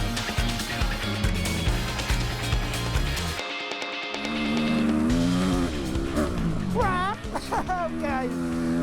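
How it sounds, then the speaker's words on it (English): A 2004 Yamaha YZ250 two-stroke dirt bike rides a practice track, its engine loud and close, revving and dropping as it accelerates, with a brief lull and varying pitch sweeps; a voice speaks over the engine. "Okay, so I am on board the old 2004 YZ250"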